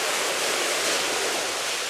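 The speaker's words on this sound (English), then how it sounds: "You can see up above, you've got this insane waterfall." Rushing water from a large indoor waterfall inside a tropical-style mansion, a steady broadband roar with no breaks, loud and close throughout.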